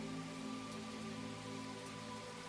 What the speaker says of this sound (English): The rain continues to pour outside as you nestle in for sleep.